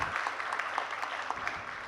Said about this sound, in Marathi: आपण त्या कनकलता प्रतिष्ठानसाठी एकदा जोरदार टाळ्या वाजवू